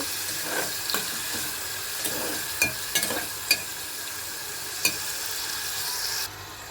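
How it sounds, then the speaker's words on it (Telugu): Prawns frying in hot oil in a home kitchen pan for a tomato curry, giving a steady soft sizzle with a few sharp pops and crackles, alone with no talking. "ఆయిల్ అయితే కొద్దిగా ఫ్రై అవ్వాలండి"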